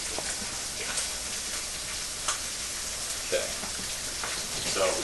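Bacon sizzles and crackles steadily in a pan on a stovetop, a dense, even hiss with occasional louder pops, close and continuous throughout.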